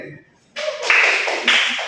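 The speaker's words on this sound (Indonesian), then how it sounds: "Kita kasih tepuk tangan untuk Ren" Students clap together in a classroom, a dense, steady burst of applause starting after a brief quiet and continuing at fairly close range to the end.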